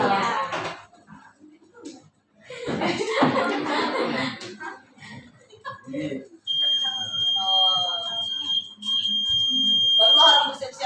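A classroom earthquake detector model built with nails that complete a circuit sets off its buzzer, giving a steady high electronic tone for several seconds while students chatter and laugh around it.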